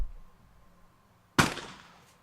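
A single loud shotgun blast at a clay target in a women's trap final at the European Championship in Leobersdorf, Austria, cracking sharply out of low background hum and then ringing away over about a second.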